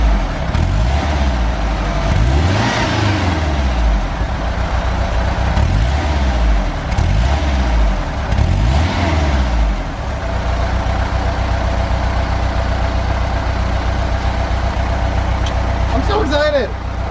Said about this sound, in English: I'm gonna go rev it just a little bit.